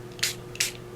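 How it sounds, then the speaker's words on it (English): A spray bottle mists water onto a paper craft pocket made with a die, two short crisp hissing puffs about a third of a second apart, close and clear over a quiet room. "let me spray this just a bit and see if we can get some more oxidization"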